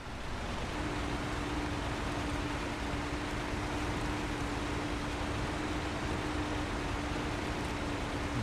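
A truck driving in SnowRunner, heard as a steady broadband rumble of engine and motion with a faint constant hum, unchanging for about eight seconds.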